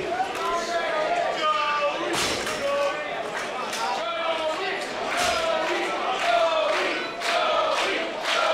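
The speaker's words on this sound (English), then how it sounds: "Half want to cheer for Ugg, the other half want to cheer for the bad boy" A wrestling crowd cheers and chants through a hardcore match, a loud sustained roar with rhythmic chanting and a sharp impact, split between two wrestlers, with commentary voices running over it.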